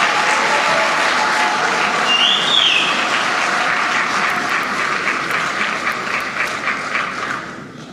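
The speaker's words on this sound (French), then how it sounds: "Je vous prie respectueusement d'applaudir notre premier citoyen" Sustained, loud audience applause at a governors' conference, dense steady clapping filling the room and fading slightly toward the end.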